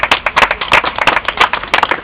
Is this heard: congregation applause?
yes